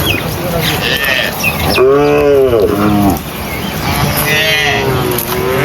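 A mother cow with her calves on a farm, lowing in long, loud, close moos, with one drawn-out call in the middle and softer calls after, over a background of talking and outdoor noise.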